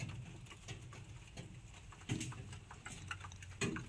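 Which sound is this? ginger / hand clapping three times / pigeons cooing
pigeons cooing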